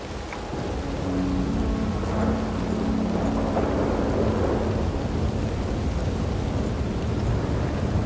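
Thunderstorm in a video game: a heavy, steady wash of rain across the whole span with deep rumbling thunder rolling underneath, loud and continuous without a break.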